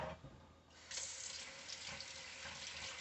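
Tap water runs steadily into a sink for a quick rinse, a close, even rushing hiss that grows fuller after a brief moment and carries on alone.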